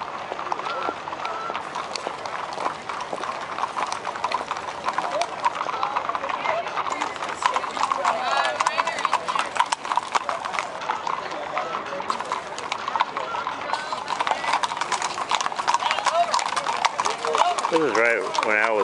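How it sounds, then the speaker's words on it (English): Wild horse galloping in a rodeo arena, hooves clip-clopping steadily under dense crowd noise and talk, with no break across the run. "This is right when Al was run over by a wild horse"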